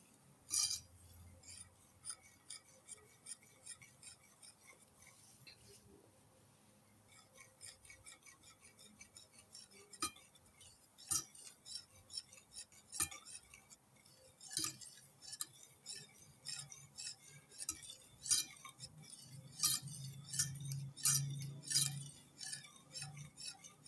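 Cake batter is stirred in a container with quick, rhythmic utensil taps and scrapes against the sides, a faint, steady clinking that continues throughout without voices.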